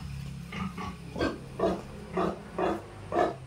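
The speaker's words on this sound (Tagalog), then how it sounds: "Bisitahin ko yung aking baboy. Nag-iingay." A pig grunts and oinks close by in a steady rhythm of about six short, repeated calls, with quiet farmyard ambience underneath.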